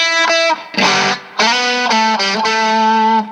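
Electric guitar played through a distortion effect, a few sustained overdriven notes and chords with brief gaps between them, loud and close with no voices.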